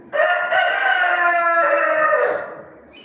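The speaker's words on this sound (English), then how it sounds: "my grandmother's chickens are also being so annoying and loud." A rooster lets out a long, loud crow close by, a sustained strained call that fades at the end.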